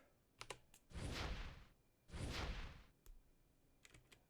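Computer keyboard keys clicking during Dragonfable play, a few scattered taps around two longer bursts of faint, rapid typing, all quiet and close.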